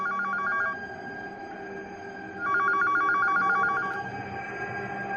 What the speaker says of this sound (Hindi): जरा फोन सुनते हुए जाना प्लीज।